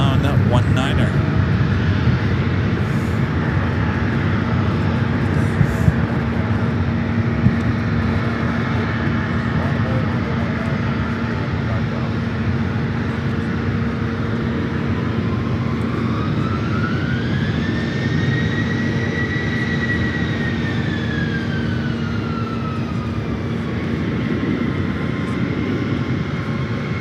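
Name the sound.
jet taking off down runway 19, Reagan National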